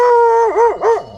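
A feral dog on an old housing estate gives one loud, close, drawn-out howl that dips and rises twice, heard alone without talk.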